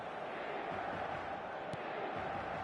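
A stadium crowd in an eFootball match keeps up a steady, faint roar of massed voices, with no pauses and no sharp peaks.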